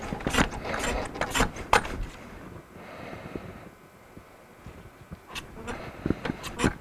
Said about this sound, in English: this is going to pump pressure and going to simulate the coolant system in operation under correct temperature